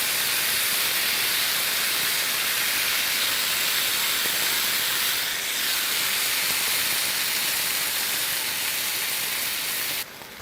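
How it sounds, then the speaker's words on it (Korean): Water poured into a pan of hot tomato sauce sets off a loud, continuous steaming hiss that holds steady for about ten seconds before it suddenly drops away, with no talking. "여기에 물을 조금 넣어줄게요"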